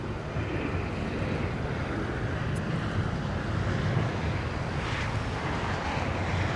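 A United 757 or JetBlue A321 airliner banks near LAX, producing a continuous distant rushing jet roar that stays even and broad, without speech.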